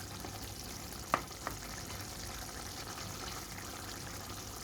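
Beef cooking in a pan with its ingredients is stirred, a steady frying hiss running throughout with two sharp utensil clinks near the middle.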